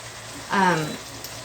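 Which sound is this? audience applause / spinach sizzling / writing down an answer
spinach sizzling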